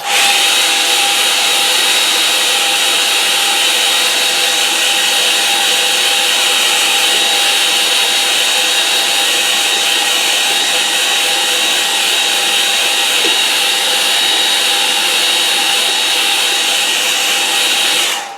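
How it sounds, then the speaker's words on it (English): A hairdryer blows steadily across a watercolour painting on paper, a continuous loud whirring hum with a high whine that runs unbroken for the whole stretch and cuts off at the end. "the top of my hairdryer's come off"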